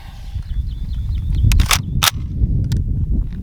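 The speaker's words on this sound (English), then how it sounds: "Right now, let's keep attempting to shoot." Desert Tech MDRX rifle with a two-port muzzle brake firing outdoors: two sharp, loud reports about a third of a second apart, over a low rumble of wind and background noise, with faint chirping in the distance.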